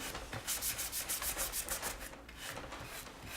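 Dark wax rubbed onto a wooden stool with a brush or cloth, a soft, steady scrubbing and rubbing in quick back-and-forth strokes, close and quiet with no speech.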